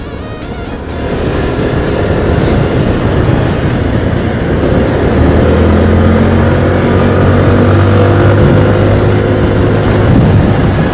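A Yamaha NMAX scooter fitted with an Aerox gear ratio, on a test ride along a ring road. The engine drones steadily and loudly, with heavy wind rush and a rising tone as it speeds up.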